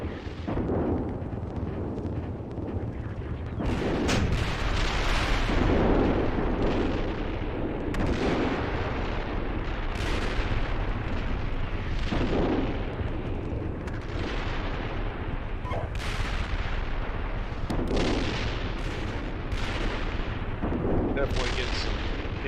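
Tank gunfire in the armored combat simulator Steel Beasts Pro: repeated heavy cannon booms strike at irregular intervals over a continuous rumbling battlefield backdrop, loud and close.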